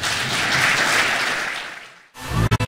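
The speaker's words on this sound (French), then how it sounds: "Applaudissements pour Cédric Lavaux." Audience applause at a general assembly, a dense wash of clapping that swells, then fades out, followed by a short gap and a few loud, close bursts of handling noise near the end.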